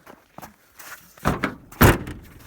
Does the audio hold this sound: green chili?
no